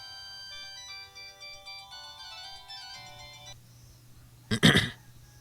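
A mobile phone rings with a melodic, chiming electronic ringtone in a quiet room; the tune plays steadily, the ringing stops, then a sudden loud vocal burst.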